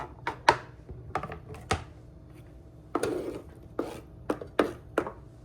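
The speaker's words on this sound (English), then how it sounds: "we're just gonna cut it up in small pieces" A kitchen knife chops fresh ingredients for a green juice into small pieces on a cutting board, a close, irregular series of about a dozen sharp, crisp strikes with brief pauses between them, no talking.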